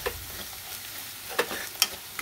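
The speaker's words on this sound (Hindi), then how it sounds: "दो से एक से डेढ़ मिनट तक इसको ऐसे भूनना है ताकि हमारा मसाला भी इसके साथ साथ भुना जाता है" Village-style palak paneer masala stirred and fried in a pan with salt, a quiet steady sizzle with a couple of sharp spoon clinks against the pan, close by.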